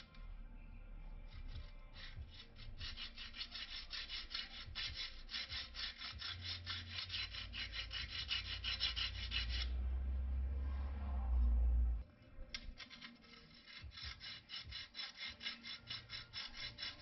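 Stainless steel trim from a Holden HT Monaro being worked by hand with a metal file, with steady rhythmic back-and-forth rasping strokes that pause briefly near the end and then resume, close and continuous, with no talking.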